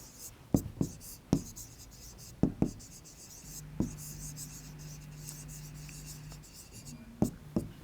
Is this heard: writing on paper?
yes